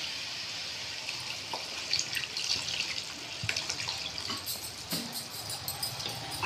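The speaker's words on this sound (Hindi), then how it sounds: "अब मैं ये खीमा गलने के लिए थोड़ा पानी डालूंगी।" Water runs and splashes steadily into a pan of cooking minced meat (keema), a soft continuous hiss with occasional small drips and clinks, fairly close.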